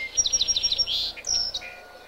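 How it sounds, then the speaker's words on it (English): A song sparrow sings in open country: a quick series of bright, high chirps and trills, fairly close and clear, with a short pause before a final sweeping phrase. "A song sparrow shows its presence to defend its territory."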